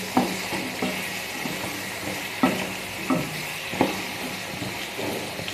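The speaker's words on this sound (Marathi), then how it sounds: "बटाटा टाकलेला आहे ते तेलामध्ये चांगलं फ्राय करून घ्यायचं आहे" Cut potatoes fry in hot oil for a capsicum and potato bhaji while a spoon stirs them, giving a steady close sizzle broken by sharp scraping strokes at irregular intervals.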